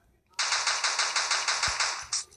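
Steady rapid-fire video game gunshots, a regular stuttering burst of about a dozen crisp, bright shots, close and loud, ending with a few more separate rounds.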